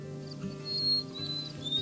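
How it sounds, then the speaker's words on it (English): Thin, high bird chirps in a forest come and go faintly over a steady low droning hum, with a few soft patters. "Do you hear those birds?"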